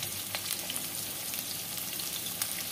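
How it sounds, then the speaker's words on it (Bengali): Steady sizzling of fish and potato frying with chopped onion in hot oil, a continuous crackling hiss with occasional sharper pops, close and even throughout. "পেঁয়াজ কুচানোটা দিয়ে আর একটু ভাজবো মাছ আলুটাকে"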